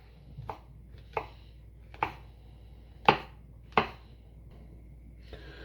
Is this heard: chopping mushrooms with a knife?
yes